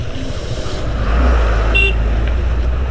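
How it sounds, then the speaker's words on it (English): On a rough jungle road, a truck rumbles past close by with a deep engine drone that swells in the middle and then fades, and a short horn-like toot sounds partway through. "and a truck out of nowhere."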